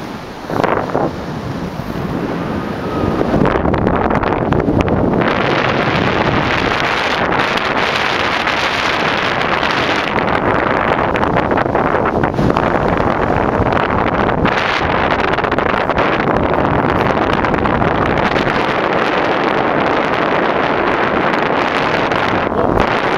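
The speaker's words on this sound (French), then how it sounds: "on a un petit courant, du vent" Steady, loud wind rushes and buffets across the microphone outdoors on a mountain site at Orcières, with gusty roar throughout and no talk.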